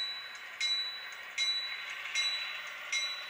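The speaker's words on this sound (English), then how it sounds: "Extra 4236 is pulling to a stop near the station." Model train Extra 4236 on a layout easing to a stop near a small station, a steady hum with four evenly spaced clicks like wheels crossing rail joints, faint and close, no talking.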